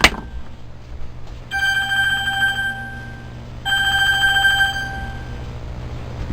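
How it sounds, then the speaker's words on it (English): A phone rings indoors in two clear bursts of an electronic ringtone, each lasting about two seconds with a short gap between, loud and close over quiet room tone. "There's my phone."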